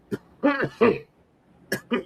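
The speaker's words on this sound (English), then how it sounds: "Cough." A few short, harsh coughs and throat-clearing bursts in quick succession, close up, separated by brief pauses.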